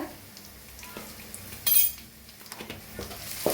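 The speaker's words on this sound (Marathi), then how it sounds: "तेल चांगलं गरम झालंय जो मसाला आता बनवून घेतला होता ते आपण छान असा टाकून भाजून घेऊया" Masala with curry leaves and asafoetida crackles faintly as it roasts in hot oil in a pan, with a spatula scraping and clinking against the metal, including one sharp louder scrape mid-way; no talk.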